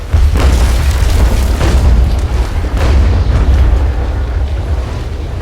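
Ship cannon fire in the naval combat game Naval Action: a rolling barrage of deep, heavy booms in quick succession, loud and rumbling, overlapping into a continuous thunder for several seconds.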